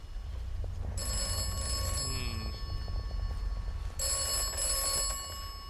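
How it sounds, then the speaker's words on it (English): A telephone box bell in the video game Atomfall rings in two bursts, loud and close, over a steady low hum with faint background tones. "I think we might want to go and have a look at this telephone box. Yes, that's ominously started ringing."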